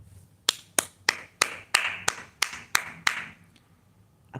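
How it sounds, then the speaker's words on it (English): About nine sharp, evenly spaced hand claps ring out close by at a steady rhythm, each one crisp and separate, tapering off into quiet at the end with no voices over them. "Applause for you."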